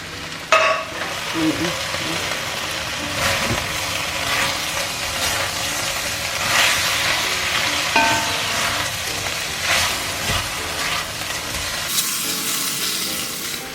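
Pork roasting in a pan for Bicol Express, a steady loud sizzle with repeated scraping and stirring strokes throughout, no talking.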